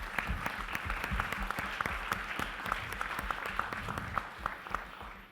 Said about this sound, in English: firstly, give a huge round of applause to Sherin.